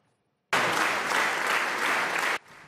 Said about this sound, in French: Très applaudi, Gérard Larcher est donc élu une 3e fois président de la Haute Assemblée